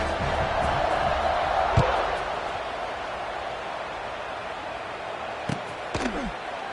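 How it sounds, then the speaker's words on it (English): Stadium crowd in College Football 25 buzzing as a steady, broad murmur that holds throughout, slightly louder at first, with a few brief thumps and sharper knocks standing out near the middle and end. "this crowd is buzzing after that last score"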